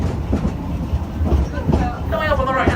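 A zoo tour train at Whipsnade Zoo rumbles along its rails with a steady clickety-clack and low mechanical drone, loud and close, with a guide's voice talking over it.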